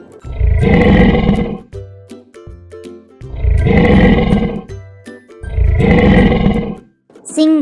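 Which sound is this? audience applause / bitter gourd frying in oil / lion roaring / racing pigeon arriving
lion roaring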